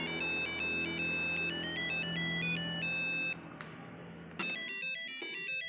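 A BBC micro:bit plays a short synthesized melody, stepping tones in a steady beeping run that cuts off partway, followed by a few sparser electronic notes; no talk.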